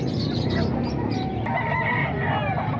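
Chickens cluck and a rooster crows amid the steady din of a crowded chicken market at Calumit tiangge, with several birds calling at once over a constant hubbub of talk.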